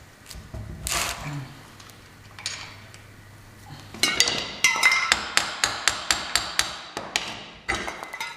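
A screwdriver taps metal on a Dana 60 axle part, giving a run of sharp, evenly spaced metallic knocks that grow more frequent toward the end, after some quieter shuffling and handling noise.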